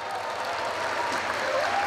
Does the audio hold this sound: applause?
yes